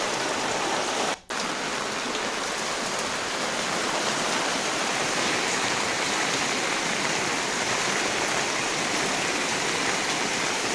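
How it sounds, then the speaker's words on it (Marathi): Floodwater after heavy rain in a Maharashtra village surges through the streets with a steady, loud, rushing roar like a stream, unbroken apart from one brief dropout near the start. No one speaks. "तसा खळखळाट गावातल्या रस्त्यांवरून या पाण्याचा बघायला मिळतो"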